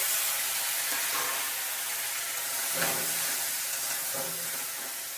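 Ridge gourd frying in a pan for a Bengali magur fish curry, a steady broad sizzle with occasional stirring scrapes, close and fairly loud with no talk.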